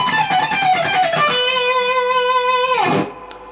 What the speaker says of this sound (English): So this is a little descending contoured scaling line.